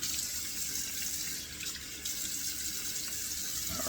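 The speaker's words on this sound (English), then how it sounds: "Here, let me splash on some cold water." Cold water runs steadily from a bathroom tap into a sink before splashing the face, a continuous close hiss of flowing water with one brief dip in the stream midway.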